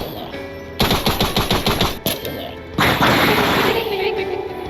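Rapid shots from a Mossberg shotgun in a Minecraft gun mod, a loud burst of about eight evenly spaced blasts, a pause, then a sustained noisy roar of fire.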